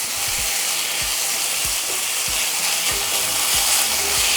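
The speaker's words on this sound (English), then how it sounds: "And now we're just going to saute for 3 minutes." Chopped onion, Roma tomatoes and a serrano chile sauté in a hot pan, giving a close, steady sizzle broken by soft, regular scrapes and knocks as the mixture is stirred.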